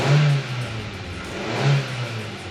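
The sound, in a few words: car engine revving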